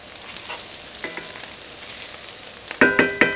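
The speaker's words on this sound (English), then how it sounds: "we're just going to saute that for just a few seconds until the garlic becomes fragrant" Garlic sizzles in a hot pan over medium-high heat, a steady soft crackle with a few sharper clinks of a utensil near the end.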